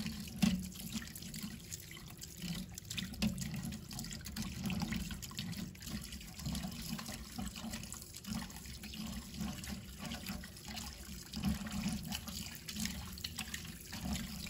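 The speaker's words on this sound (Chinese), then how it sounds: "再把猪大肠粘液冲洗掉。" Tap water runs steadily into a kitchen sink while raw pig intestines are rinsed clean of slime. The flow is close, continuous and even, with small splashes and no voices.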